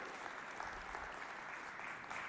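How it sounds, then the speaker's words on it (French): A studio audience applauds at the opening of a Chadian television show, FestAfrica Show, a steady dense wash of clapping that holds evenly throughout. "Applaudissez pour cette émission qui va commencer et qui fait chaud."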